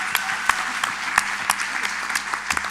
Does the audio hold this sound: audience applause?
yes